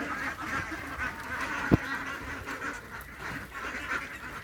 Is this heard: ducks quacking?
yes